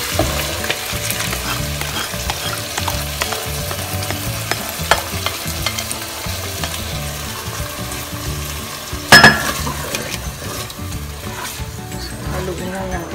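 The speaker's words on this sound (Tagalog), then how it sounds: "Haluin lang natin yan. We're gonna let it come to a boil." Sweet Filipino-style spaghetti sauce sizzles in a pan while being stirred, a steady crackling fry under repeated scraping and rubbing of the spoon, with one sharp clink of utensil on the pan partway through.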